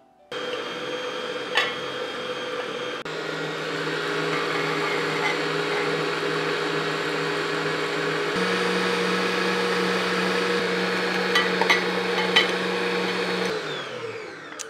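A stand mixer whirs steadily while beating egg yolks with orange zest, a close continuous motor drone whose pitch shifts slightly partway through, with a few faint clinks before it winds down at the end.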